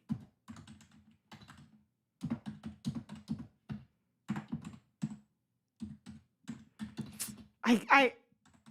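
Rapid clicking of a computer keyboard typed on with long fingernails, coming in short bursts with pauses, close and fairly soft.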